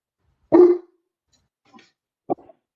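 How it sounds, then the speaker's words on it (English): A single loud dog bark close by, followed after a pause by two softer, shorter yips. "Sorry about my dogs."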